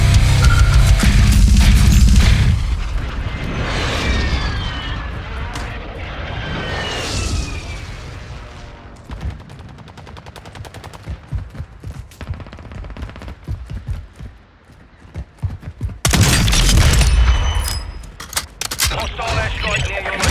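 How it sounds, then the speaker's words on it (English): Airstrike explosions in Warzone 2.0 gameplay: heavy booming blasts and rumbling roars open and return near the end, with rattling gunfire and crackling debris in between, loud and dense. "Hostile airstrike near your location."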